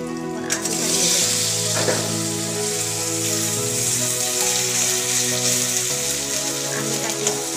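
Potatoes go into sizzling fried spice paste for a dried fish curry, a steady hissing fry with occasional scraping stirs and faint background music.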